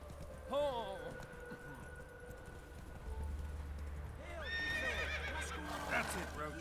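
Horse neighing and whinnying in The Witcher 3 video game, with steady clip-clop of galloping hooves underneath and a second louder whinny later; someone speaks over it.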